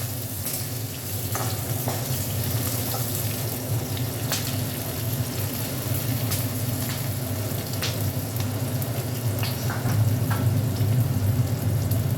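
Chopped onion sizzles steadily in a pan for an okra dish, a continuous close frying hiss with a few faint clicks and no talk.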